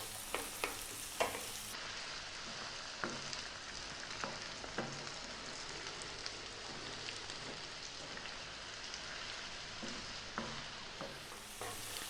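Garlic sizzling in a pan over lively, above-medium heat for a ground beef pasta sauce, a steady crackling hiss broken by scraping stirs, with no talking.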